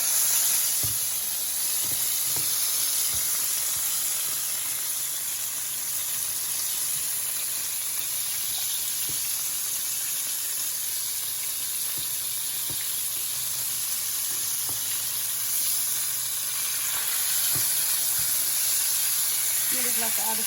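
Broccolini softening in a hot pan on the stove, a steady even sizzle and hiss that holds for the whole stretch, close and fairly loud.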